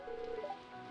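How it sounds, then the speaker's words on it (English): Green rain falling in the Stardew Valley video game, heard as a brief soft synthetic tone sliding upward over a faint wash, lasting about a second with no talking. "A green rain has descended on the valley."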